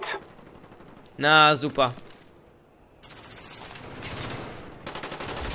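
AK-47U gunfire in Call of Duty Black Ops, rapid bursts of automatic shots heard in the second half after a brief spoken exclamation, moderately loud with rattling texture.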